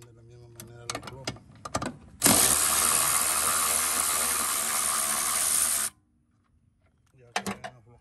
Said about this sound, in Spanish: Ahora aflojan los tornillos de aquí y de ahí los de los frenos para poder sacar el booster.